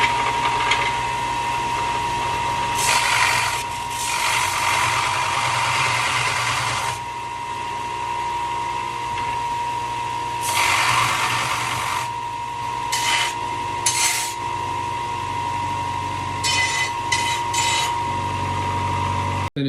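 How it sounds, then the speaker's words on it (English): An inexpensive machine deburrs and cleans freshly cut metal parts for a buggy build, running with a continuous close motor drone broken by repeated harsher grinding bursts as pieces are pressed against it. "time to clean them, burr them, make sure they're nice and clean on the inexpensive machine"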